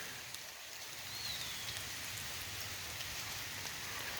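Steady outdoor rain falls throughout, a soft even hiss of drops with no voices, fairly faint and constant from start to finish.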